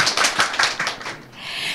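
Audience members clapping hands in a talk on money and happiness, a burst of loose, uneven claps for about a second that fades into faint hiss.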